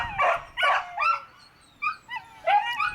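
An excited dog barks in sharp, close bursts during a training session, the barks mixed with high whining whimpers and yips in an uneven, agitated rhythm, with no voices over it.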